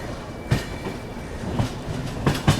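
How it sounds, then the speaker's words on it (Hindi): The Rajendra Nagar Tejas Rajdhani Express rolls past at a station, loud clickety-clack of wheels over rail joints thumping in irregular beats under a steady rumble. "तेजस राजधानी एक्सप्रेस।"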